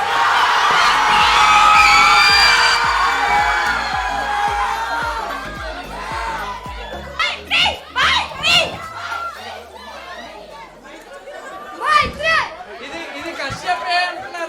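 At a sangeet celebration, a crowd of children starts with loud, mixed chatter and cheering, then breaks into a run of short shouted bursts together, each loud and separated by brief pauses.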